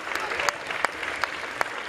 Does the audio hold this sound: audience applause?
yes